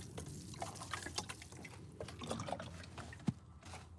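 Water splashing and trickling onto a patchy garden lawn during repair, a soft steady pour with small drips and one brief louder splash near the end, fairly quiet and with no talking.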